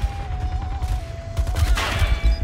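Gunfire in the video game Metro Conflict, a busy spread of shots and bursts crackling over low rumbling game noise, with a louder cluster near the end.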